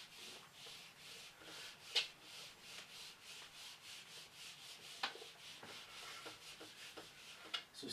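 Writing is rubbed off a board with quiet, repeated brushing strokes in a steady rhythm, punctuated by a few faint sharp squeaks, with no talking.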